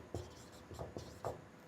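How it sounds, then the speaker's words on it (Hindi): Marker or chalk writing on a board during a Hindi grammar lesson, a few short scratchy strokes at close range, quiet and sparse with brief pauses between marks. "मैं इधर लिख रहा हूँ"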